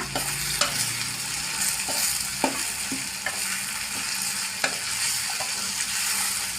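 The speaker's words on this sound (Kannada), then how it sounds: "ಈಗ ಕ್ಯಾಪ್ಸಿಕಮ್ ಹಾಕೋತಾ ಇದ್ದೀನಿ ಈಗ ಇದನ್ನು ಮಿಕ್ಸ್ ಮಾಡ್ಕೊಳ್ಳೋಣ" Capsicum frying in a pan as a spatula stirs it, with a constant bright sizzle and regular scraping strokes spaced about a second apart, close and alone.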